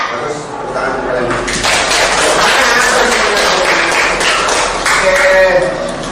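A classroom of students claps together in a dense, steady patter that swells and runs for several seconds, mixed with a teacher's voice and chatter.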